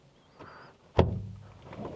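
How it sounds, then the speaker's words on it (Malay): A Honda Civic FL5 car door fitted with a GT3RS-style pull handle gives a single solid thunk as it shuts nearby, with a faint click before it and a short fading rumble after. "Buka pintu. Depan belakang sama."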